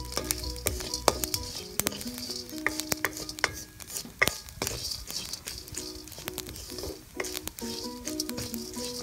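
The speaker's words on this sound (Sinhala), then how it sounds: "හොඳට හැන්දකින් කලවම් කරන්න," Curry powder roasting in a pan is stirred with a spoon, producing a soft continuous sizzle and rapid irregular scrapes and clicks of the spoon against the pan, close and fairly quiet, with no talking.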